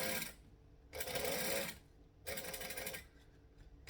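Sewing machine stitching stretchy mesh, back stitching at the ends, with two bursts of steady whirring close by separated by quiet pauses, no speech.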